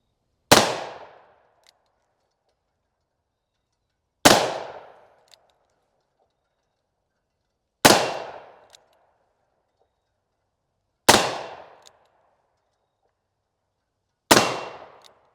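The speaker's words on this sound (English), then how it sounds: "So we got the 357 Magnums loaded. Let's go ahead and give it a shot." A Ruger GP100 revolver firing .357 Magnum rounds at a target range: five sharp, loud, isolated shots spaced roughly three to four seconds apart, each with a short decaying echo and silence between.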